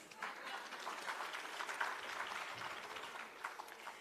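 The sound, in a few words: audience applause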